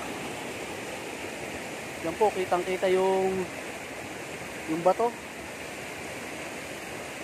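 Clear water of a stream and waterfall on a farm lot runs in a constant gentle rush, with a person talking over it in two short bursts.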